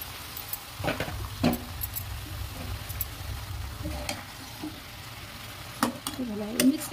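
Turmeric and spices are stirred in a frying pan for an evening puja meal, with a soft, steady sizzle and intermittent scraping strokes close by, plus a few faint voice-like sounds.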